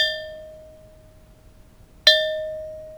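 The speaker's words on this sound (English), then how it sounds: "with this particular type of bell, being a personal bell, I think it needs to be struck" A personal bell is struck twice, each strike producing a bright, clear ringing tone that decays slowly; the first fades out and the second rings loudly at the end, with no voices present.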